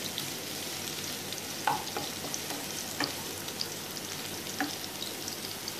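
Garlic sizzles in hot oil while being stir-fried for Hakka noodles, a steady close frying hiss with a few soft clinks and scrapes of stirring.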